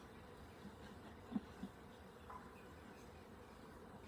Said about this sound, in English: I'm just seeing a lot of bees.